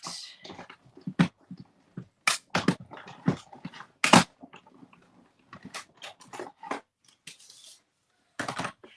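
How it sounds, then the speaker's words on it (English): Scissors snip through white cardstock in quick irregular bursts of sharp close cuts separated by short pauses, with no talking. "I'm going to cut it out. And cut it out of basic white."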